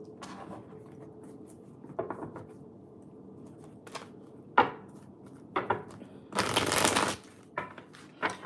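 Tarot cards being shuffled by hand, sporadic soft riffles and taps building to a longer, louder riffle burst near the end, close and quiet with no talking.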